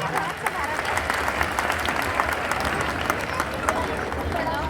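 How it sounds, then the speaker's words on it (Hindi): Applause from an audience at a political event in Uttar Pradesh, steady dense clapping throughout with crowd noise and a voice speaking over it. "तालियों की गड़गड़ाहट आप लोगों की बनी"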